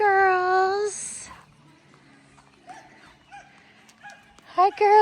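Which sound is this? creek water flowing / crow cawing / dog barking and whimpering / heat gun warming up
dog barking and whimpering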